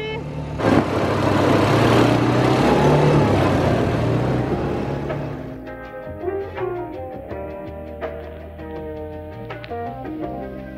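Quad bike (ATV) engine droning steadily during a ride in Cappadocia, loud and close for several seconds before fading back under music and faint voices.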